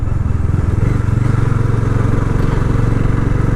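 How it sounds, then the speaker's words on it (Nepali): A Bajaj Dominar 400 motorcycle engine runs steadily and loud while being ridden, a continuous rough droning throb with an annoying rattly buzz and no talk over it. "अनि यसरी चलाउँदाखेरि चाहिँ फ्यारवाला साउन्ड फिल हुन्छ"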